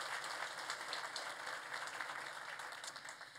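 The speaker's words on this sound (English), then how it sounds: "Let's give a round of applause for our committee," Sustained applause from an audience at a Chamber of Commerce public safety awards ceremony, honoring the awards committee; a dense, steady wash of many hands clapping that holds at an even level throughout, with no talk over it.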